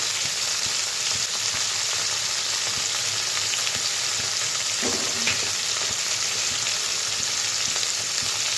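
Ground cumin and Kashmiri chili powder fry in hot oil in a pan, making a continuous close sizzle with a brief scrape of stirring partway through.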